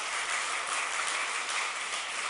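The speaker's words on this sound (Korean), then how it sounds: "우리에게 새날을 허락하신 하나님 앞에 영광의 박수를 들려드리도록 하겠습니다." Church congregation applauding at a Korean New Year's Eve service: dense, even clapping from many hands, continuous and fairly close, filling the whole stretch with no voices over it.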